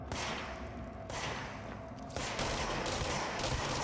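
Sustained gunfire from the video game Control, a dense, loud barrage of rapid shots that runs almost continuously, with brief dips in intensity, and no talking.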